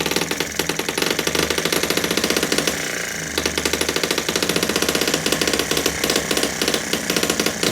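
A small spark-ignition petrol model engine, a Sterling Kit M12b, runs loudly and continuously at high revs, a rapid rattling buzz that dips briefly midway before picking back up.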